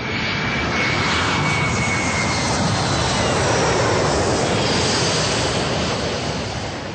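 A passenger airplane on the Heathrow flight path over a West London garden suburb passes overhead as a loud, steady roaring rush that swells and slowly fades, with no talk.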